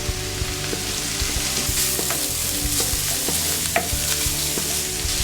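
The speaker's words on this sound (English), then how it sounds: "I can add my chorizo at this point. In it goes." Chorizo sizzles and crackles in a pan with translucent onions, a steady close frying hiss broken by scraping stirs, with no talking.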